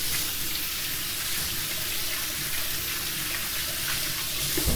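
Oily fingers washed under a running kitchen tap, a steady close hiss of flowing water with splashing that holds evenly throughout, with no talking.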